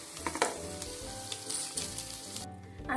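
Tomatoes, green chilies and garlic sizzle on a griddle pan for a Maharashtrian tomato thecha, giving a continuous crackling fry with a few louder stirring pops.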